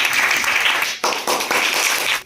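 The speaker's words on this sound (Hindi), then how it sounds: "एक बार जोरदार ताली बजाओ इसके लिए।" Students in a school science quiz clap loudly together, a dense burst of applause that briefly dips and then surges again before cutting off.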